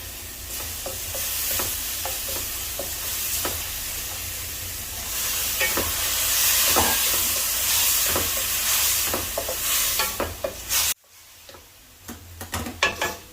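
Peas go into a pan of cooked tomatoes, bringing a steady hiss and sizzle with scattered ticks and scrapes of stirring. Near the end the sizzle cuts off abruptly, leaving only a few faint clicks.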